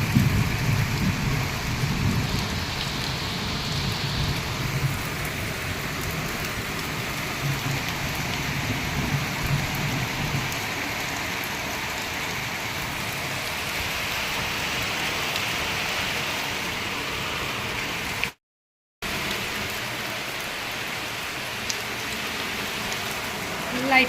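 Heavy rain pours down outdoors in a steady, unbroken hiss of drops drumming on surfaces, fairly loud and continuous for the whole stretch.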